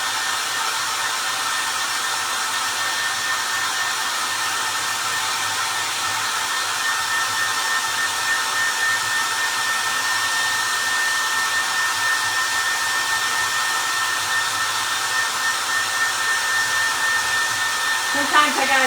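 A hair dryer blows steadily and loudly without pause, heating and drying plastic spools for a homemade patriotic parade float.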